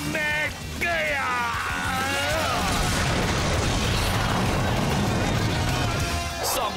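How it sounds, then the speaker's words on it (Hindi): A revolving laser blaster fires in Power Rangers Super Samurai, a loud, dense burst of blasts and explosive crashes in a cartoon-style action scene, with voices shouting over the opening. "Revolving laser blaster. फायर।"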